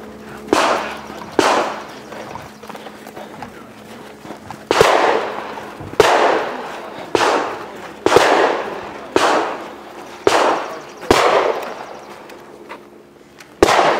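At an IDPA pistol shooting match, about a dozen sharp, loud pistol shots crack one by one at a steady, roughly one-second pace, each with a short echoing tail, and no one talks.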